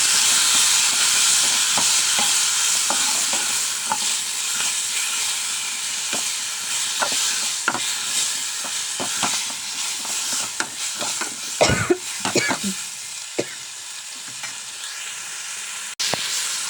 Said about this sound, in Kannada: ಟೊಮೊಟೊನ ಹಾಕ್ಕೊಂಡು ಫ್ರೈ ಮಾಡ್ಕೊಳ್ಳೋಣ.